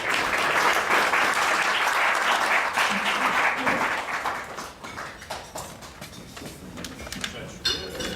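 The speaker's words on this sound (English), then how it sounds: "Let's give a round of applause for Conor Jones" Audience applause at the New York Browning Society's high school poetry contest ceremony in New York City, loud and sustained for about four seconds, then thinning into scattered claps that fade out.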